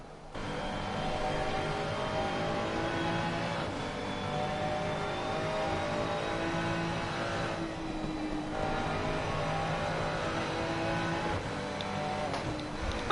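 Race cars in Assetto Corsa Competizione at Bathurst, a BMW and a Ferrari, engines droning steadily with shifting pitch as they brake and downshift toward McPhillamy Park, loud and continuous with no talking.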